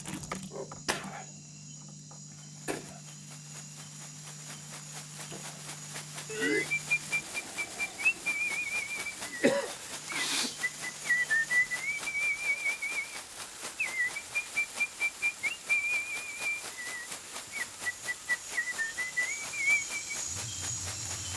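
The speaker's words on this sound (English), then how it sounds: "Alan whistles and beats his shakoppa to both calm the initiates and help bring on their visions." A man whistles a wavering, sustained melody during an ayahuasca ceremony, the tune carrying over a steady insect-like hiss with a few soft knocks and a low hum early on.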